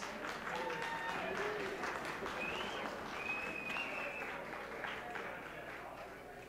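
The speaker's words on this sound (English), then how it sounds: "how about a big round of applause for Jennifer Keith and the High Society Boys" Audience applause for Jennifer Keith and the High Society Boys at a club show, a sustained, fairly distant wash of clapping with some crowd voices, slowly fading toward the end.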